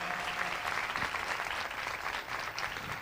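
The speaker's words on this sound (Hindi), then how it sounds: "आओ हम उनके लिए तालियां बजाएं" Congregation applause during a Christmas sermon in a church, a continuous wash of many hands clapping at moderate level, steady throughout with no talk over it.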